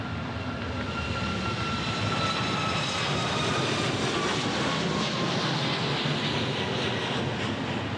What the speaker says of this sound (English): 737 MAX 8 departing here.